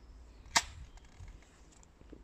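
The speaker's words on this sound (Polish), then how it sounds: "wyrzutnia jest już uzbrojona i możemy strzelać" A toy X-Shot dart launcher fires a single dart with one sharp, loud snap, then only faint room noise follows.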